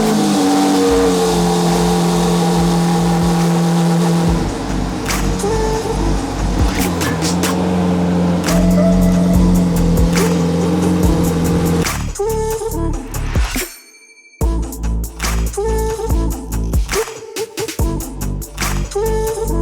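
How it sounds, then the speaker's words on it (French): A Lamborghini Aventador fitted with a Hamann exhaust barks through a cold start, loud and close, with revving bursts and sharp crackles, a brief cut-out, then renewed roaring blips. "vous allez avoir la sonorité du Cold Start. Le vrai Cold Start, et vous allez voir, c'est très sympathique avec la ligne d'échappement Amann"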